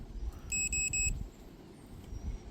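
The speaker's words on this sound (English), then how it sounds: "It beeps a few times and you're done." Mellif PS-MK18 electric pruning shears give a quick series of about four sharp, high electronic beeps close by when switched off, followed by quiet.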